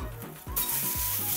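A tuna steak flipped in a hot pan bursts into loud, bright sizzling after a few soft scraping strokes, then keeps up a steady close hiss.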